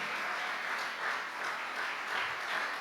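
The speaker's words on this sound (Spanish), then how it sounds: "Dale un aplauso al Señor" A church congregation claps in a steady, even wash of applause, fairly soft and with no voices over it.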